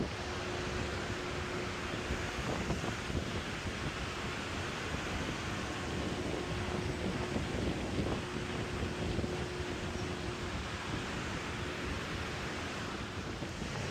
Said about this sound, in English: Got a brisk wind today.